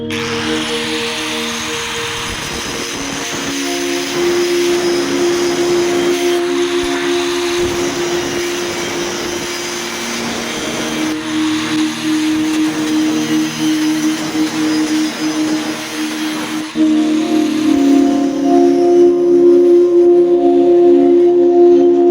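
An iron piece being cut to measure for a roadside bench, giving a steady loud grinding whine with tonal bands that runs the whole stretch and grows louder near the end, with no talk over it.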